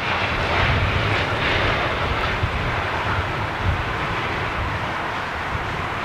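An Airbus A319 or A320 airliner in retro livery passes near Heathrow with a steady, loud jet engine roar that swells slightly and holds throughout, no voices.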